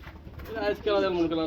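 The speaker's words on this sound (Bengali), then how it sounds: "আমরা এইখানে আরেকটা জোড়া দেখাবো মুখী কবুতর।" Mukhi pigeons in almond colouring coo in a low, rolling murmur that swells in the second half, close by, with voices talking over the birds.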